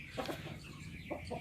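Desi hens on a poultry farm give soft, scattered clucks, a few short bursts at low volume against steady background noise.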